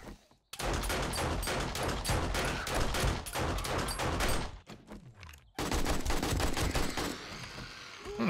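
Rapid, repeated pistol fire in the survival game 7 Days to Die, loud and close, a fast string of shots with a brief break midway before another burst resumes.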